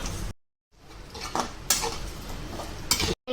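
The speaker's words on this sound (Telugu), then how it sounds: "గోంగూర వేసుకుందామండి అంతా ఒకసారి మిక్స్ చేసుకుందాం" Gongura leaves and dried prawns being mixed in a pan, a spoon scraping and clinking against metal in scattered strokes over a faint background hiss, with a couple of short silent gaps.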